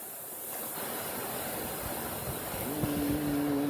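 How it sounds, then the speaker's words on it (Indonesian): Heavy rain with strong wind at a concession, a steady rushing wash of rain and gusts throughout, with a faint low tonal hum rising near the end. "Hujan angin."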